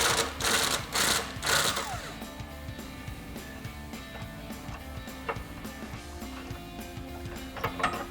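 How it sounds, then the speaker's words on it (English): An impact gun fitted with an 18 mm socket hammers off a nut on a Jeep Gladiator JT suspension: a few loud bursts at the start, then steady rapid mechanical rattling close to the mic. "grab an 18 millimeter socket on an impact gun to take that nut off"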